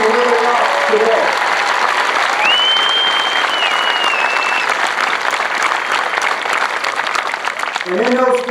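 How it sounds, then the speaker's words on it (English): Loud, sustained applause from family members at an outdoor Air Force basic military training graduation parade, dense clapping filling the whole stretch, with a brief tonal whistle or call rising over the crowd midway and voices mixed in. "how about a big round of applause for all of the family members"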